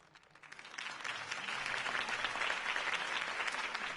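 A large crowd in a Batman video game breaks into sustained applause, swelling quickly after a quiet start and holding steady with dense clapping throughout.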